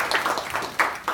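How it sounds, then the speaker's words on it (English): A round of applause for poem readers in a Black Lives Matter poetry workshop, a fairly loud group clapping with uneven bursts and a strong swell near the end, no talking over it. "let's give them one last round of applause"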